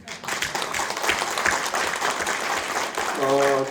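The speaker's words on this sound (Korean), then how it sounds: "박수 한번 치실래요?" A crowd at an indoor Korean job-guarantee forum rally applauds with dense, continuous clapping, and a voice speaks briefly in Korean near the end.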